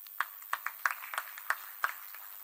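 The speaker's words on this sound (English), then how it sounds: "let's clap for ourselves" A small group clapping for themselves at a student budget forum launch, sparse scattered claps with a few distinct sharp hits rather than a full roar, somewhat distant in a hall.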